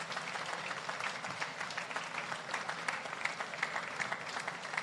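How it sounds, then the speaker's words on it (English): Audience applause for award recipients at a Jamaica Civil Service Long Service Awards ceremony, steady dense clapping filling the hall at moderate level, continuous throughout without a break. "keep the applause going for all the recipients"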